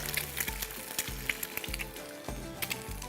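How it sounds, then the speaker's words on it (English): One egg frying in a pan coated with plenty of hot oil, a steady close crackling sizzle with small popping spatters throughout, no voices. "we're gonna crack 1 egg directly in here"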